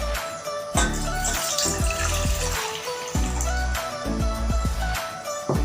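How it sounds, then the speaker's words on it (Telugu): A cup of water poured into a pot on a stove for homemade ginger tea, splashing and gurgling in uneven bursts, close and fairly loud, with no talk. "1 కప్ వాటర్ను యాడ్ చేద్దాం"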